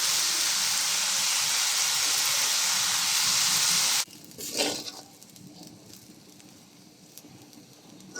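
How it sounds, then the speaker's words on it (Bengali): Beef fried rice with salted cooked rice stir-fried in a hot pan, heard as a loud, steady sizzle and hiss for about four seconds, then quieter scraping and rustling of stirring. "এখন যে ভাতগুলো রান্না করা হয়েছিল লবণ দিয়ে সেটা দিয়ে দিচ্ছি দিয়ে ভালো করে সব কিছুর সাথে মিশিয়ে নিতে হবে"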